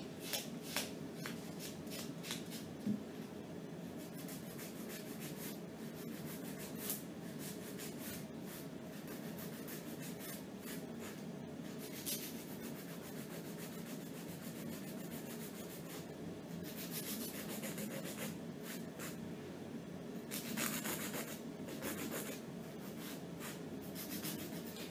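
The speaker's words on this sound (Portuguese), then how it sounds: "Ela já cortou e agora ela tá lixando." A nail file rasps back and forth on a freshly cut fingernail before gel nail application, a close, faint, steady scratching that continues throughout in a soft repetitive rhythm.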